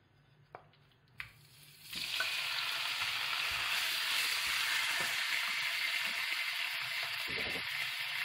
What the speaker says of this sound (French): on va faire revenir la viande comme ça